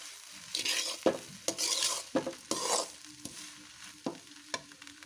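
Puffed rice is stirred in a pan, a series of dry rustling sweeps and sharp scrapes at an uneven rhythm, close and fairly quiet, with a light sizzle beneath.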